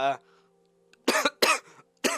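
A man coughs three times in quick, harsh bursts at close range, just after a short spoken word.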